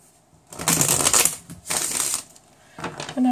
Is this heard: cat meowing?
no